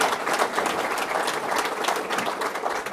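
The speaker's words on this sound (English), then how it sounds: "Let's give him a round of applause for being here." A crowd gives a dense, sustained round of applause at a Bassmaster fishing event hosted by Governor Cuomo, and the clapping stays steady and fairly loud with no voices over it.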